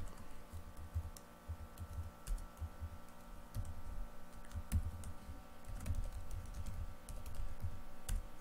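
Typing on a computer keyboard while writing Python code for user input, a steady run of close, quick key clicks with irregular rhythm and occasional louder strokes, alone with no talk.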